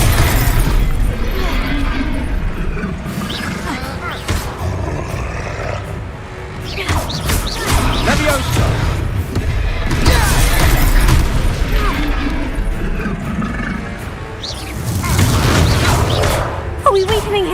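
Repeated heavy spell explosions boom and shatter in Hogwarts Legacy combat, with blasts arriving in loud bursts every few seconds over a roaring rumble, and a voice calling out between them.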